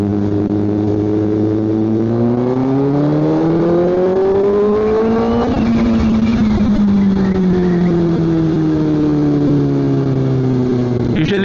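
A Kawasaki ZX-4RR sport motorcycle's inline-four engine revs up in two long rising sweeps, its pitch climbing smoothly and high, then dropping back between pulls, loud and close with no one talking.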